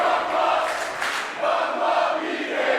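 A wrestling crowd at a Texas Pro championship title match cheers and shouts in a loud, continuous roar, with a few louder swells rising out of the din.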